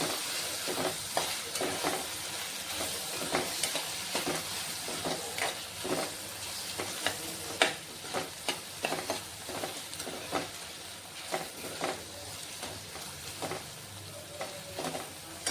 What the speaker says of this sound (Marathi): आता आपण यात टाकणार आहोत टॉमॅटो सुद्धा आपलं चांगलं आपल्याला शिजून घ्यायचं थोडी मिनिटभर परतू आपण आता